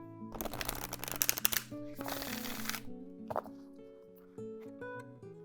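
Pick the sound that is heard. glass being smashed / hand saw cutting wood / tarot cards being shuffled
tarot cards being shuffled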